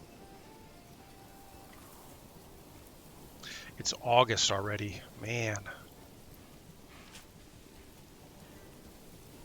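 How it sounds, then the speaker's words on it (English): Rain falls in the Manor Lords video game as a soft, steady hiss running throughout, while someone speaks briefly over it midway. "Come more rain."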